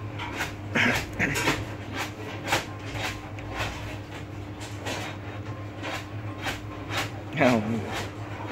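A dog pants in quick repeated breaths and lets out a few short whimpers, close by, while people talk over and around it.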